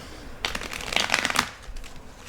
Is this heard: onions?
no